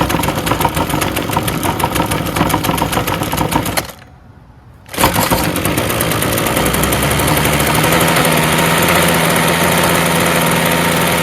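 A Ryobi full-crank weed trimmer's small two-stroke engine idles on half choke, a close, steady buzzing drone that drops out for about a second and then returns at an even, unwavering pitch.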